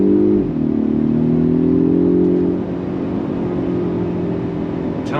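A Polestar 1 AWD luxury performance hybrid car accelerating on throttle, with a steady, loud engine drone that holds its pitch and eases slightly partway through, alone with no talk.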